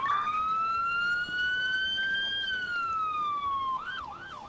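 An emergency vehicle siren wails from a rescue game, a single sustained tone rising slowly and then switching to a quick yelping pattern near the end, loud and alone.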